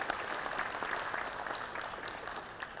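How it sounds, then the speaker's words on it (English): An audience at a university association event applauds the organizers, a steady burst of many hands clapping in a hall, moderately distant and continuous for a few seconds with no voices. "I would request each one of you to give a big clapping to the organizers."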